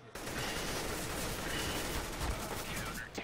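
An AK rifle fires in the video game CS:GO in a dense, continuous burst of gunfire, loud and sustained with a voice faintly underneath.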